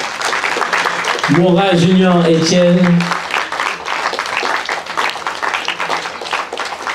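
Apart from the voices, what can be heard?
audience applause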